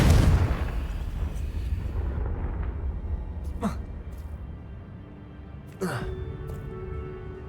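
A Confringo blasting spell explodes in Hogwarts Legacy, a sharp booming burst with a rumbling tail, followed by another blast near the six-second mark, over a steady game ambience.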